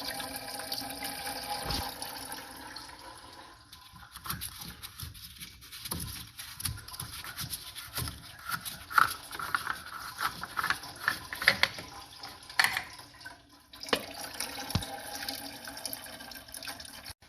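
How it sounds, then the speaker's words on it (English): Coolant draining from a pulled heat exchanger line on a BMW B58 engine, a steady low gurgling trickle of liquid with splashy bursts, fairly faint and continuous, with no one speaking. "you can just pull the line off and the coolant will drain out"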